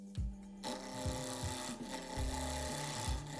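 A wood lathe turns a pen blank on a mandrel under light tool passes. It gives a soft, quiet scraping rasp with a steady rhythmic rub, heard close and alone.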